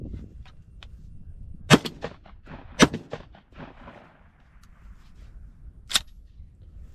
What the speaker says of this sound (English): this is 2 standard supersonic target loads